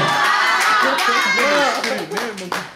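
A studio audience at a Bulgarian television talent show shouts and cheers loudly in response to the host, a dense crowd roar with mixed voices and some clapping that dips briefly near the end.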